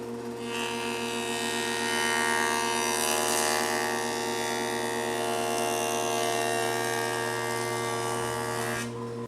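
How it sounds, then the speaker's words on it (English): A wood jointer shaving a sixteenth of an inch off a 2x4, a loud, steady high-pitched machine whine with a dense cutting roar, held evenly for several seconds before cutting off. "We got the 2x4, and then what we're going to do is we're going to push this through here."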